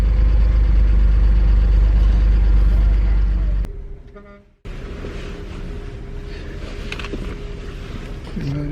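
A foreign car bought cheap at auction, its engine running after an oil change with a loud, steady idle close by, cutting out for about a second before resuming at a lower, even hum.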